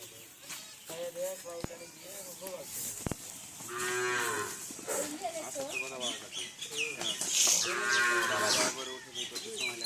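Cattle at a cattle market low repeatedly, with several drawn-out moos near and far, mixed with people talking, a bleat-like call and a couple of sharp knocks.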